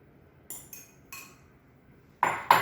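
Cheese cubes clink into a dish for Southern-style baked mac and cheese, a few quiet taps followed by two sharper, louder clinks near the end.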